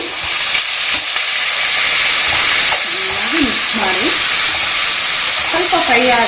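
Tomato bath masala with turmeric sizzles loudly and continuously in a hot pan, a bright steady frying hiss with occasional stirring clatter, while a voice talks faintly underneath.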